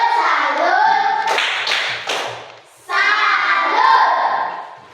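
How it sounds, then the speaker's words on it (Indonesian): A classroom of children performs a rhythmic clapping cheer, with loud chanted voices and bursts of claps in a patterned beat, pausing briefly before the chant and clapping resume. "Mari kita tepuk salut."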